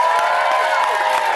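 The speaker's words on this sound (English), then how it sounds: "I think that deserves a round of applause." A studio audience at a television talk show cheers and applauds, a dense continuous wash of claps with whoops and raised voices throughout, loud and sustained.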